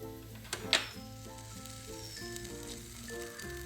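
Grated coconut roasting in ghee in a hot pan for homemade sambar, giving a steady close sizzle with one sharper crackling burst early on, over a soft continuous musical hum.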